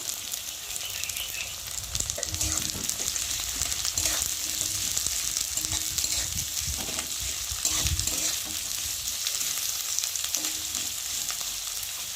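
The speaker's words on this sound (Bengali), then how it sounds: "কেটে রাখা দেখতে পাচ্ছ কাঁচা লঙ্কাগুলো দিয়ে দেবো, পেঁয়াজের সাথে ভালো করে ভেজে নেব" Chopped onions and green chilies frying in a pan, a steady close sizzle with occasional stirring scrapes running throughout, no talking.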